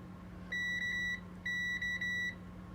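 A faulty WG K4900 arcade monitor emits electronic beeping when pressed, two bursts of rapid, high-pitched tones over a low steady hum, close and clear.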